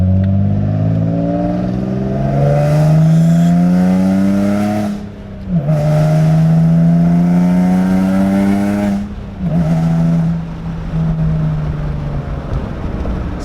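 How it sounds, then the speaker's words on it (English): A Nissan G35's engine revs hard and repeatedly, climbing in pitch with a raspy, buzzing exhaust note, briefly dropping off between pulls; loud and close. "sometimes you could hear like a little growl, but then it would just be terrible rasp."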